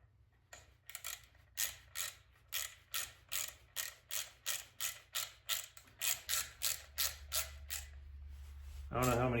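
A wrench ratchets rethreaded bolts tight in a steady series of about fifteen close, even clicking strokes, with a low hum running underneath and a louder burst of noise at the very end.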